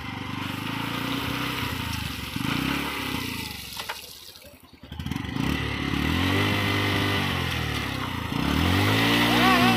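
A motorcycle engine idles and revs up close by in the rain while being washed, dipping briefly before catching again and running loudly, with splashing water in the background.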